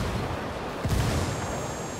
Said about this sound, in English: Sniping that turret.